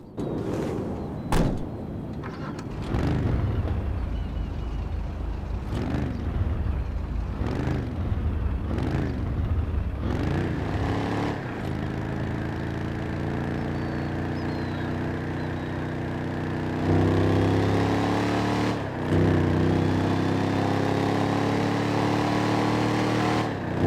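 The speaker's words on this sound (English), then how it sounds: "It's a V8, really loud, low, and just chill." A V8 car engine in GTA Online, with door and mechanical clunks followed by deep, low rumbling and revving that swells and settles, loud and close.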